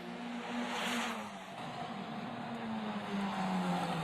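A Formula Regional race car runs through Massenet into the casino section of the Monaco street circuit, a steady, fairly faint engine whine heard from a distance under a wash of crowd and ambient noise.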